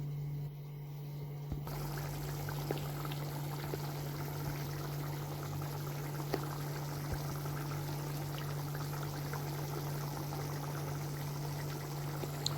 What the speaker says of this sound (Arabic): هسيبها بقى تاخد غلوه